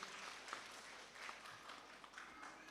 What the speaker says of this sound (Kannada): ಅವರಿಗೊಂದು ಚಪ್ಪಾಳೆಯ ಧ್ವನಿಯ ಮುಖಾಂತರವಾಗಿ